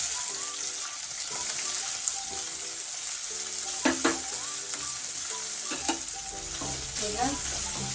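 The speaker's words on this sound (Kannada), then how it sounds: "ಹೆಚ್ಚಿರೋ ಈರುಳ್ಳಿ ಹಾಕ್ತಾಯಿದ್ದೀನಿ" Chopped onion and curry leaves sizzle and fry in a pan for puffed rice upma, a steady broadband crackle with a few sharper spits and stirring clinks, no talking.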